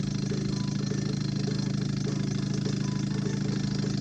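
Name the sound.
Stirling engine spinning a small generator motor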